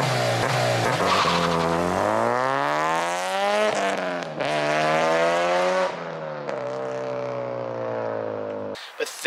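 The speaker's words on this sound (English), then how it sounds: "This full 3-inch is a very loud exhaust." A Honda Civic Si with a Skunk2 Megapower RR 3-inch exhaust: a loud, raspy exhaust note climbs steadily through the revs, drops on a shift and pulls again, close and dominant.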